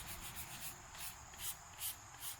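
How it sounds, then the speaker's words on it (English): Gentle sanding over a pumpkin's surface to smooth it, a faint, soft rubbing with quick regular strokes repeating close by, alone and quiet. "So it's not even like real aggressive sanding."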